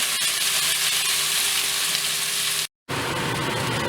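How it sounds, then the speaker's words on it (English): Onions frying in a pan until light brown for an arbi (taro root) masala, giving a steady, close, dense sizzle with a brief cut of silence near the end. "Now we're gonna cook the onions till they are cooked light brown."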